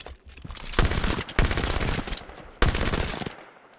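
A modded gun in Halo 4 fires in rapid automatic bursts, three loud sustained rattling volleys separated by brief pauses, close and dominant with no talk over it.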